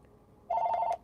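A phone rings in a single continuous burst of about half a second, a bright electronic tone standing out clearly over a quiet room with no talking.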